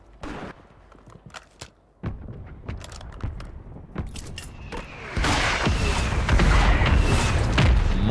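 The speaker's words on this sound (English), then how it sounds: "Mortars galore" Mortar shells explode in the video game Call of Duty Warzone, scattered sharp booms and cracks at first, then a heavy barrage of overlapping blasts and rumble that grows loud and dense toward the end.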